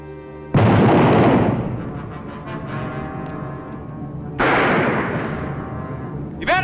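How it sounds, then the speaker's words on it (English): Two loud, booming gunshots in a Western shootout, one near the start and one later, each ringing out with a long echoing decay and a sharp crack at the very end. "you start a firing."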